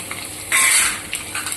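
Garlic and ginger sizzle and fry in a hot pan, with a loud burst of sizzling and stirring as they are tossed, then quieter crackling with a few utensil scrapes against the pan.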